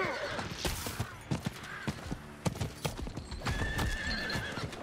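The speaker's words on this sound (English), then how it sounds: "I don't use my horse that often." A horse's hooves clip-clop in a steady gallop with a couple of neighs, close and loud over game ambience in Diablo IV.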